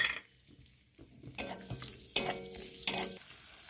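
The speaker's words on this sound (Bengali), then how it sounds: "কাজু কিশমিশটা ভেজে নেব হালকা করে।" Cashews and raisins frying in ghee in a hot kadai for semai payesh: quiet at first, then bursts of sizzling with clinks and scrapes of stirring, close by.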